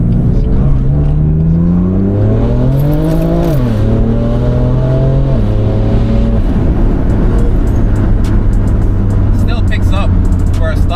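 A stock-tuned BMW M4 engine on R8 semi-slick tires accelerates from inside the car, its loud tone climbing through gears with a shift and drop, then droning steadily under road noise as people talk.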